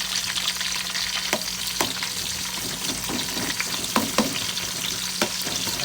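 Ghee rice frying in a pan, a steady close sizzle broken by sharp scraping stirs at irregular intervals, with no talking.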